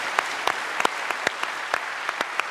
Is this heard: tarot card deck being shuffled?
no